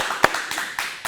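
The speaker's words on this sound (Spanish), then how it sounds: "Un aplauso para Julio Bogeat." Audience clapping for a guest speaker at a talk on the Enneagram, heard as a few separate sharp claps rather than sustained applause, fairly faint and sparse over about a second.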